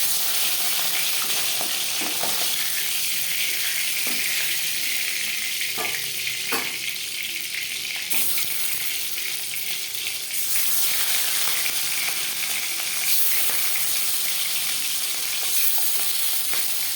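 Katla fish fries in oil with a loud, steady sizzling hiss and scattered pops and clinks, and a brief watery splash partway through. There is no talking.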